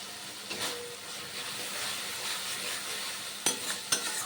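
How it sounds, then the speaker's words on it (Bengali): Spice paste for potol chingri, a pointed gourd and prawn dish, sizzles softly in oil in a pan as a low, steady hiss, with a few clear clinks of a spoon stirring near the end. "মশলা থেকে তেল ছেড়ে বেরিয়ে এসেছে, দেখুন মশলা অনেকটাই কষানো হয়ে গেছে।"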